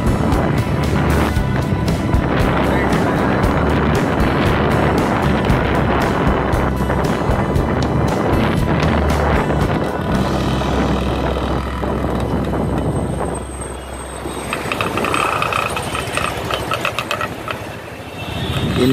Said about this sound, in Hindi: हम जा रहे हैं इनफील्ड 500 की राइड पर